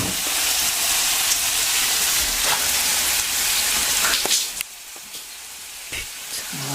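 Beef broth poured into a hot pot for boeuf bourguignon, giving a loud, steady sizzling hiss that fills the pan before easing into a softer, quieter simmer near the end.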